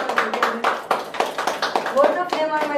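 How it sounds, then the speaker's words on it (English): A small audience at an art gallery inauguration claps in distinct, sharp individual strikes, a sparse, uneven patter of a few nearby hands, with a voice speaking partway through. "So, we can have a big round of applause."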